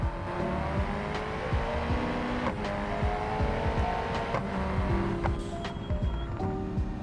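A 4-cylinder car engine in the driving game BeamNG, heard from the hood camera, revs and drones under a changing pitch with traffic noise. Short clicks and bumps cut in now and then, and nobody speaks.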